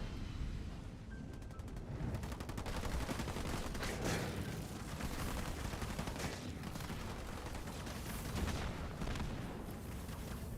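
Rapid bursts of gunfire and explosions crackle nearly nonstop through a Halo Wars 2 1v1 tournament battle, including missed grenade blasts, loud and dense with no pauses.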